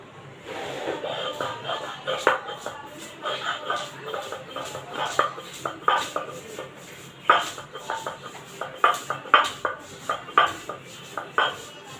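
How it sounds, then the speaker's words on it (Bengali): Fried peanuts being ground into a paste for a spiced pointed gourd dish, with steady rhythmic rubbing and scraping strokes, close and moderately loud, repeating in regular pulses. "আমি এখন বাদামটা বেটে নেব।"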